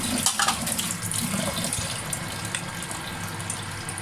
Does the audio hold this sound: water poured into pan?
yes